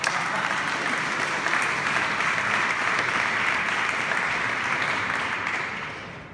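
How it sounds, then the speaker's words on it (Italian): Steady, even audience applause fills a congress hall at the national assembly of the Unione Camere Civili, sustained throughout before tapering slightly at the end, with no voices over it. "Vi ringrazio davvero degli applausi"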